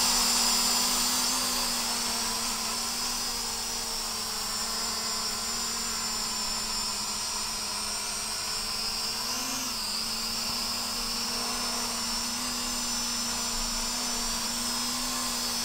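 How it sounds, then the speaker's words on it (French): A Hubsan H502C quadcopter drone hovers in place, giving off a steady, high-pitched motor whine that holds nearly level throughout, with one brief wobble in tone partway through and no voices. "Donc là le drone est très stable."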